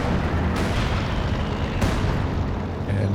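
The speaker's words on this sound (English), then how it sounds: "the double heavy mortar strikes just blasting the ISG out the back" Heavy mortar strikes in the video game Company of Heroes 2, a continuous roar of explosive booms with two sharper impacts cutting through the rumble, loud and close.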